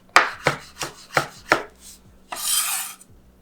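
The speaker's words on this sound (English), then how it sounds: "Give it a little rough cut." A knife rough-chops ingredients for elote-style chicken wings on a cutting board in five sharp, evenly spaced strikes, followed by a brief scraping sweep. The sound is close and clear, with no talking.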